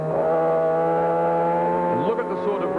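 A superbike engine screams at high revs, around 11,000 to 12,000, during a 1989 race at Phillip Island, a sustained loud whine that shifts pitch as the bike accelerates.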